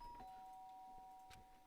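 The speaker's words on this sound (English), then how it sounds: "The sharp sound of the doorbell pierced my sleepy haze and pulled me back to the real world." A doorbell chimes in the video game Danganronpa, a clear two-tone electronic ding that rings out and sustains, fairly faint, with a soft click near the end and no talk.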